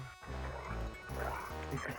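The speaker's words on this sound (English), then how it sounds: "He's a dog making all the noises." Dog sound effects in the retro PC video game Star Trek: Judgement Rites, with barks, yips and whimpers layered over steady, loud game music throughout.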